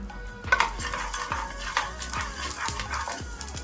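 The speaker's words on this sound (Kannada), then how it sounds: "ಇವಾಗ 1/4 ಟೇಬಲ್ ಸ್ಪೂನ್ ಸಾಸಿವೆ ಹಾಕೊತಾ ಇದ್ದೀನಿ. ಇದು ಚೂರು ಚಟ ಚಟ ಅಂತ ಹುರ್ಕೋಬೇಕು" A quarter tablespoon of mustard seeds crackles in hot oil for obbattu saaru, with a string of quick pops and spoon taps over a soft, steady sizzle, close and moderately quiet.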